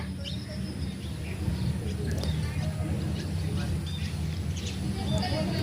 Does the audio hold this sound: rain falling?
no